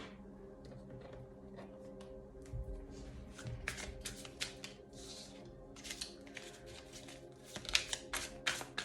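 Tarot cards shuffled by hand in repeated bursts of crisp riffling and flapping, close and fairly quiet, with soft pauses between rounds.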